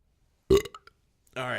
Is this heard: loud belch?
yes